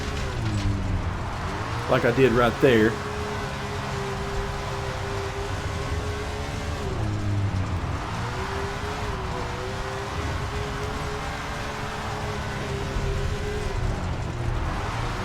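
Race car engine in SRX: The Game at Grant Park, steady drone with pitch shifts as the car slides wide through a corner, a brief burst of noise, under someone talking.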